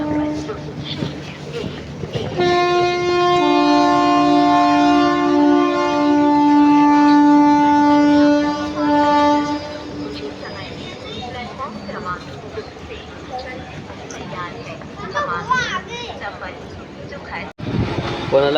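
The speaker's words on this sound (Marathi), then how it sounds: "मडगाव सावंतवाडी एक्सप्रेस क्रॉसिंगला थांबली आहे आणि आता सिंधुदुर्ग स्टेशन आलं आहे" The Madgaon–Sawantwadi Express halted at Sindhudurg station during monsoon, with a long sustained horn or siren-like tone for several seconds, then a busy platform rumble of rail noise, clatter and people talking nearby.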